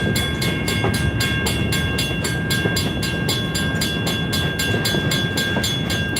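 Escanaba & Lake Superior Railroad train switching cars, a steady loud rumble of rolling stock with a faint rhythmic clatter and a sustained high tone over it, close by and continuous, with no voices.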